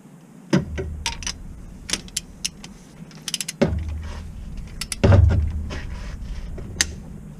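A torque wrench is being tightened on a bolt to 60 newton meters. Sharp ratcheting clicks and metallic clunks come in uneven bursts, with a heavier clunk near the end. The sound is close and quiet between strokes, with no talk.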